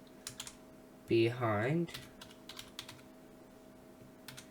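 Code typed on a computer keyboard, with quiet, scattered clicks of keys close by. A short spoken word interrupts the clicks partway through.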